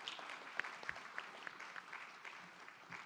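Audience at the 26th Micronesian Islands Forum claps steadily for a few seconds, a distant, moderately dense applause with a few sharper individual claps standing out.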